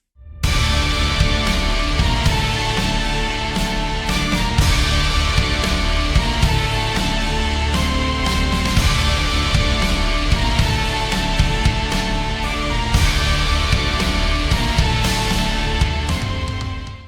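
A dense, loud electronic music track with steady driving beats, layered synth tones and sustained harmonies, playing continuously without any voices.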